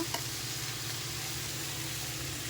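Onions with a pinch of turmeric sizzling steadily in a pan for a chicken gravy, a constant broadband hiss with a low hum beneath and one faint tap near the start.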